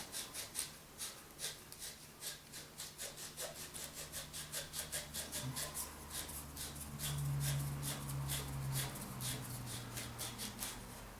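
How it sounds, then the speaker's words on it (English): A rat tail file reams out a fishing rod part in quick, regular rasping strokes, close and fairly quiet, with a faint low hum underneath. "you're going to get your rat tail file and you're going to ream this out"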